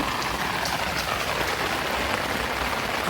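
Fine drizzle patters steadily over a Dhaka rooftop garden of potted vegetables and chili plants, an even close-up hiss of small drops on leaves and surfaces throughout.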